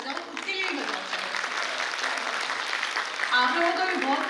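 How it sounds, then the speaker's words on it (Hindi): An audience at a school annual function claps steadily for several seconds, a dense continuous applause that swells slightly toward the end. "सभी पहले तालियां अच्छे से बजाओ, खुद के लिए बजाओ।"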